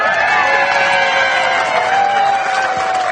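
Lively outdoor crowd at a Great American Rail-Trail route event in Three Forks, Montana, cheering and whooping in a loud continuous roar with a sustained whistle-like tone running through it.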